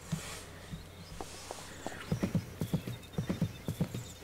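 Hooves clop on stone stairs as a horse climbs in the Second Life virtual world, a rapid run of crisp knocks in uneven pairs following a faint whinny and a few scattered steps.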